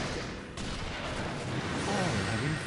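A Spiraling Bullet jutsu attack in the Naruto Ultimate Ninja Storm fighting game bursts out as a dense, roaring barrage of rapid booming impacts, loud and continuous, with voices in the game over the top.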